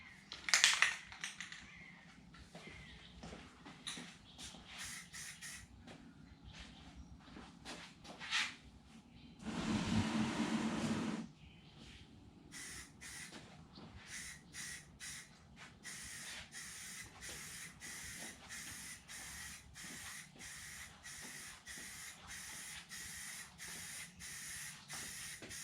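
Rust-Oleum automotive primer hisses from an aerosol can onto a model rocket nose cone, one loud sustained spray burst of about a second amid quieter clicks and handling noise.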